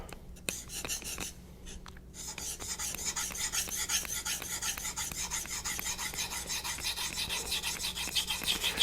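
A convex knife is scraped back and forth across a Naniwa diamond whetstone in steady, close raspy strokes, starting a little sparse and then settling into a continuous grinding rhythm.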